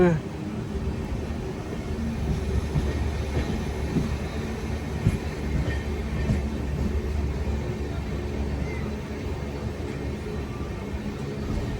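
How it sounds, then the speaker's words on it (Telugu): A passenger train hauled by a tricolour locomotive gives a continuous low rumble and rattle of wheels and carriages throughout, fairly loud and close. "Locomotive, try colour locomotive."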